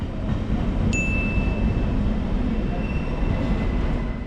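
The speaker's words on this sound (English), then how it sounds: "The train arrives 15 minutes prior to departure." An ÖBB Nightjet sleeper train arriving at a platform, with a steady loud rolling rumble of wheels and cars and a thin high brake squeal that starts suddenly and lingers over the noise.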